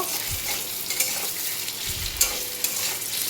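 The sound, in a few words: potatoes frying in a pan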